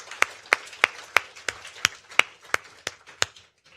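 Hands clapping at a health forum, a sparse, regular run of about a dozen distinct claps, close and fairly crisp, fading slightly toward the end with no talking over them.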